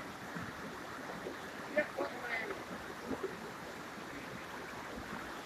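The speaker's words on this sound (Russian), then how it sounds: "Пороги такие." Steady rushing water of river rapids in the Grand Canyon of Crimea, with faint voices and a few small knocks over the constant wash.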